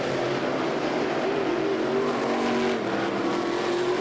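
Race cars in a night heat race at a NeSmith event on the Ocala oval roar continuously, with a dense engine howl whose tone wavers as the pack battles through turn four, steady and fairly near throughout.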